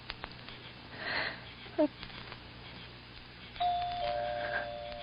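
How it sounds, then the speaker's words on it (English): A doorbell is pushed and rings with a clear sustained tone near the end, preceded by a brief chime, over a noisy old radio-drama background with breathing and muffled voices. "Go on, push the bell."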